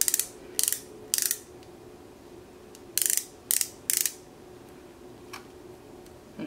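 Clicking ratchet of a twist-up cuticle oil pen being cranked, in sharp bursts of rapid close clicks separated by pauses, with a few fainter single ticks, no talking.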